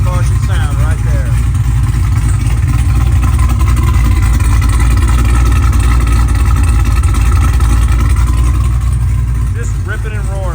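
A 2018 Yenko Camaro muscle car's roughly 1000 hp engine rumbles loud and steady nearby, a deep continuous growl throughout, with a voice talking over it.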